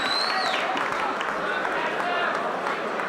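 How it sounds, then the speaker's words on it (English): Crowd applause and cheering in the arena at a 1985 heavyweight boxing match between Mike Tyson and Eddie Richardson, a broad steady roar of clapping and noise from a large distant audience, with a faint whistle near the start. "How about a round of applause for Fast Eddie Richardson?"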